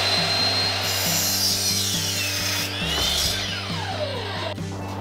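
A saw cuts through wood pieces for a farmhouse table base, its loud steady rasping strokes continuing throughout, then fading slightly near the end.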